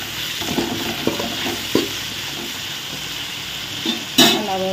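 Tomatoes salted and cooking in a pan for a country chicken curry sizzle steadily, with a constant frying hiss, a few spoon scrapes and stirring knocks, and a sharper burst of sizzle near the end.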